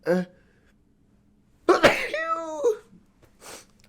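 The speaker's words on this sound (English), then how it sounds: "hold on, I'm about to sneeze." One sharp, loud sneeze bursts out nearby, followed by a drawn-out voiced exhale and a brief softer sound afterward.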